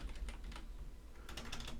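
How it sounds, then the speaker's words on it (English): Computer keyboard typing while coding a survival RPG in Unreal Engine 5, quick clustered keystrokes in two bursts with a brief lull between, close and fairly quiet, no talking. "if I could type"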